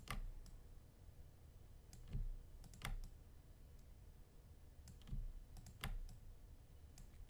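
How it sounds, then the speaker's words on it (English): Faint, sparse clicks of a keyboard Alt key and mouse while working in Photoshop, scattered single and double taps at an irregular pace, close but quiet. "I lift up, I'm clicking Alt, clicking Alt. You can see it every time I do it."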